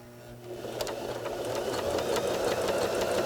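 A Babylock Joy sewing machine running steadily, its motor hum and rapid needle clatter building slightly in loudness and holding constant throughout, close up with no talking.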